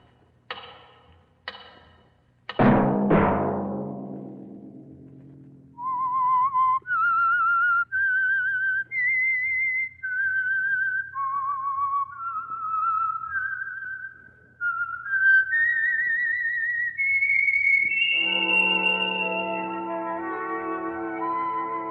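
A clear melodic whistle of the theme for the old-time radio program The Whistler, sponsored by Signal Oil, rising and falling in sustained notes and ending in a sustained orchestral chord, preceded by a few sharp sting chords.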